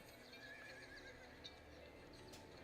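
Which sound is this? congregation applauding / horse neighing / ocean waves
horse neighing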